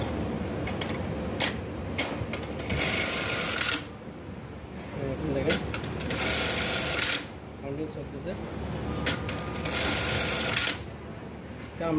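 A Brother bartack industrial sewing machine running in test mode, its mechanical stitching bursts repeating in several loud spells separated by pauses, with a person talking over and between them.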